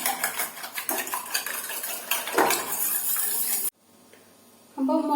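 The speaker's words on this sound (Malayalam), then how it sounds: "ഞാനിവിടെ 2 മുട്ട ഒരു പാത്രത്തിലേക്ക് എടുത്തിട്ടുണ്ട്. നമുക്കിത് നന്നായിട്ടൊന്ന് മിക്സ് ചെയ്തെടുക്കാം" Two eggs being whisked in a bowl with a utensil, a dense run of quick clinking, scraping strokes heard close for several seconds, then stopping abruptly into near silence before a brief clink returns.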